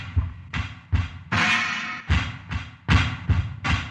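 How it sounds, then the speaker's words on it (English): Slowed, deep drum hits thud in a heavy, sluggish rhythm, with one longer washy crash in the middle; dark, pitched-down and booming. "Then once you half-time them and pitch shift them, they sound like this."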